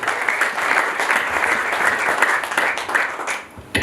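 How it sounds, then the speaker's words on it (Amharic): A church congregation claps together in sustained, loud, dense applause that carries on steadily before tapering off at the very end. "እስቲ አጨብጭቡ እባካችሁ።"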